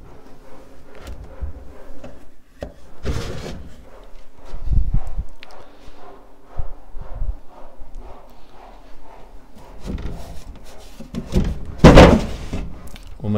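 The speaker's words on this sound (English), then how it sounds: "We'll make sure all those drawers are running nice and freely." Wooden drawers with big wooden knob handles on a large Victorian pine linen press slide and knock shut, giving several thuds and scrapes at close range, with the heaviest clatter near the end and faint talk underneath.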